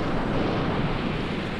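A munitions-laden cargo ship hit by a torpedo or bomber during the Second World War blows up in a huge explosion: a loud, continuous, deep roaring rumble with no voices.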